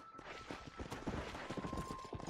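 Rapid hoof clip-clops from a horse at a trotting pace in Red Dead Redemption, steady and close, with busy background noise layered underneath.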